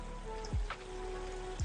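Steady hiss of falling water from a waterfall in a metaverse game world, soft and continuous with faint droplet patter and occasional low thumps, no voices.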